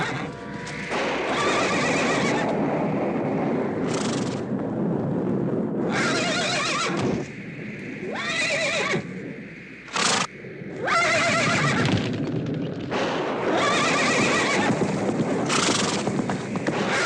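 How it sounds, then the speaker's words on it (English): A horse whinnies repeatedly in loud, close bursts over a steady clip-clop of hooves, with short pauses between the neighs. "It's the horse."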